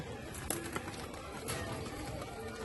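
Soft pigeon coos drift over a busy, noisy background, with a couple of sharp knocks near the start and no talking.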